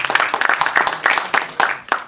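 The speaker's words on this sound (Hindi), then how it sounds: "चाहूंगा कि एक बार जोरदार तालियों के साथ सभी कलाकारों का यहाँ पर आप स्वागत करें" An audience at a Bollywood music concert claps to welcome the performing artists. The claps come in quick, rhythmic bursts that are loud and close.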